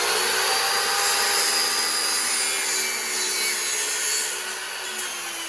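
A power saw cuts evenly across the flared edge of a crate being made into a kayak rod holder, with a loud, continuous whine close by that eases slightly near the end.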